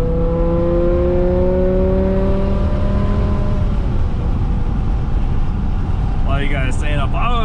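A BMW E60 M5 with the S85 V10 and straight-pipe exhaust revs loudly, its tone climbing and holding before breaking into a dense, roaring wash; voices come in briefly near the end.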